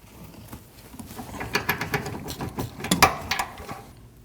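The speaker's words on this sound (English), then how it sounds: "I'm using a wrench to hold the nut and a breaker bar with a 22mm socket to break the bolt free" A breaker bar with a 22mm socket works a bolt loose on a Nissan NV2500 front control arm while a wrench holds the nut, giving a run of scraping metallic clicks and creaks that builds to a sharp crack near the end.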